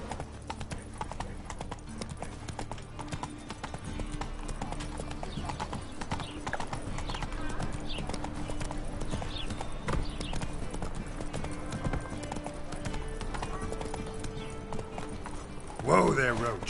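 Roach the horse in The Witcher III: Wild Hunt on PS4, hooves clip-clopping in a steady rhythmic trot under game voices and ambience, ending with a brief louder sound.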